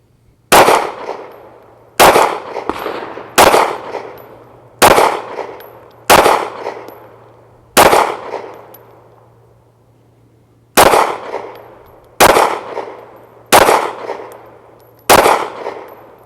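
Canik Mete MC9 9mm pistol firing 135 grain hollow point rounds from a 12 round magazine, eleven loud sharp shots in a steady cadence with a short pause partway, each followed by a ringing decay.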